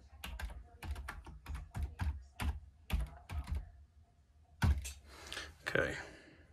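Rapid clusters of computer keyboard keystrokes sound close by as a file name is typed during Inkscape work, the clicks coming in uneven bursts with short pauses and a few louder taps near the end.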